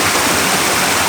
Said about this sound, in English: After sustained rain, a series of small waterfalls begin to appear along this stretch.